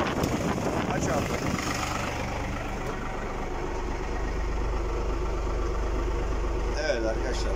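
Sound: tractor PTO driven 55 kVA generator running

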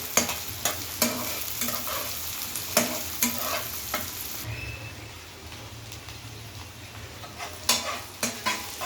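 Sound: tomato being stirred and frying in a pan

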